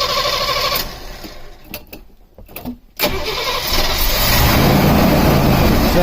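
A 1989 Winnebago SuperChief RV engine cranks with an uneven, stuttering rhythm, pauses briefly, then catches and fires into a loud, steady run that holds close up until the end.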